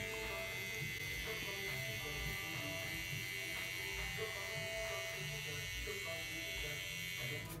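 An electric hair trimmer cutting a fade buzzes in a steady, continuous drone close to the ear, with no pauses throughout.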